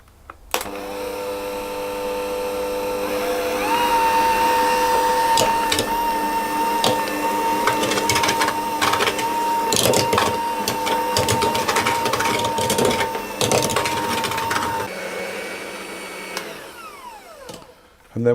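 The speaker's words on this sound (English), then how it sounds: "hand mixer." An electric hand mixer creams butter and sugar for cookie dough, spinning up to a loud, steady whirring drone with rattling beater knocks against the bowl for about twelve seconds before winding down.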